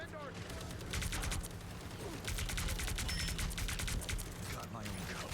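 Rapid energy-weapon fire from pulse cannons and archers in Marvel Rivals, a steady dense volley of repeated shots across the whole stretch, loud and continuous over game ambience with some voices present.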